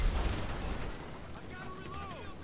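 Explosive ammunition blows up in GTA V Online, giving a loud, deep rumbling boom that slowly decays into a hissing tail while a voice talks over it.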